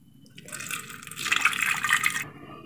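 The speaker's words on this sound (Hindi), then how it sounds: "इसमें हल्का सा हम पानी ऐड करेंगे 1/2 कप के करीब" Water poured into a pressure cooker holding whole raw mangoes, a soft splashing trickle that builds after a quiet start and stops abruptly near the end, alone and close.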